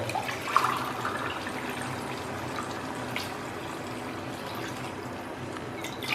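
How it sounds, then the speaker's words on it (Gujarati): About two and a half glasses of water pour steadily into a pot of tomato-potato curry, a continuous hissing splash that runs throughout, close and unbroken, with no talk. "હવે આમાં આપણે બેથી અઢી ગ્લાસ જેટલું પાણી રેડીશું"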